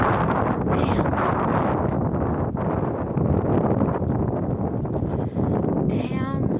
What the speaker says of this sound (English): This wind's making it god awful for me.